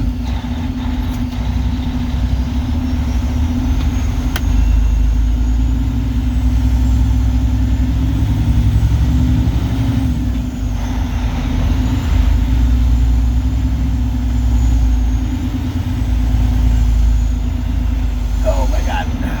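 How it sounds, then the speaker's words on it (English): A truck engine drones low and steady while the truck drives and turns. The engine runs continuously, and a voice can be heard over it at times. "this truck does not like to turn"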